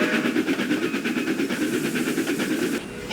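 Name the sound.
steam train puffing into a rail yard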